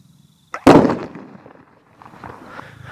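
A petrol-filled bottle set off by a 12-volt spark bursts in a single sharp, loud blast after a brief click, followed by a fading rumble and faint scattered debris noise, with no talk.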